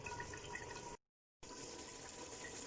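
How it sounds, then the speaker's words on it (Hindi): Water pours steadily into a pot of frying chicken, a continuous close hiss and gush of liquid broken by a brief gap of silence before resuming. "इसमें हमने थोड़ा पानी शामिल किया है"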